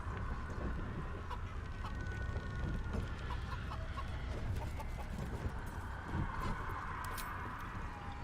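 A chicken in the Baldur's Gate III video game clucks repeatedly, soft and fairly faint, in short uneven bursts over a low background hum.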